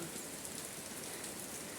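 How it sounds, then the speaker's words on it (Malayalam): Steady rain falling outdoors, a dense continuous patter on surfaces that holds at an even level throughout with no voices. "ഇന്ന മഴ പെയ്യുന്നു മക്കളെ"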